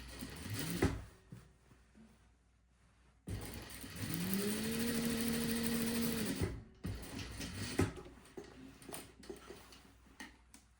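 A sewing machine stitching a lined jacket's opening closed near the fold line, a steady mid-pitched motor whir running for a few seconds amid handling noise and rustle, close and fairly loud.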